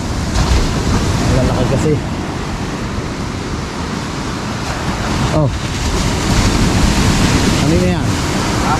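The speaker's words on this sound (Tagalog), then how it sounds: "Malalaki na naman mga katakbo ng alon." Big ocean waves wash around a small fishing boat at sea, a loud, constant roar of surf and wind noise throughout, with people talking briefly over it.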